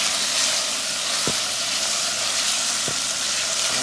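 Garlic ginger paste sautéing in an electric cooking machine makes a loud, dense, continuous sizzle with two brief knocks from stirring, close up with no voices.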